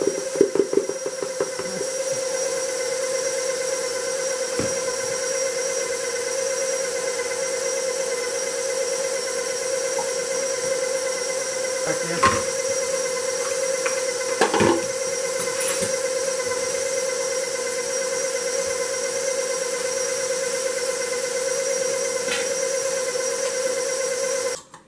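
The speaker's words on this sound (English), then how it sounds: "Now with my mixer, how I have to do it is like this." An electric mixer whirs steadily through banana cake batter made with flour and buttermilk, a constant humming drone with a hissy edge, broken by a few brief clunks and bumps, running unbroken until it stops abruptly.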